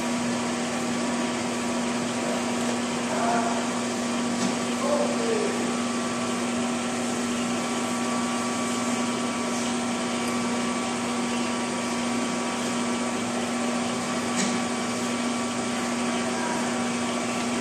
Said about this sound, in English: put the machine into gear, and the machine runs through failure.